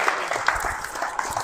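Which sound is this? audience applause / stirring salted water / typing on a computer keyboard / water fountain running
audience applause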